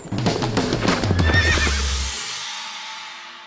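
A horse at a stud farm lets out a loud, close whinny that swells and then fades away, with faint hoof clatter early on.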